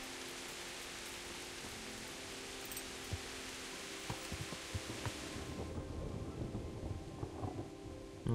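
Rain hisses steadily in the medieval role-playing game Kingdom Come: Deliverance, with a distant rumble of thunder building in the background and scattered drips and knocks growing more prominent toward the end.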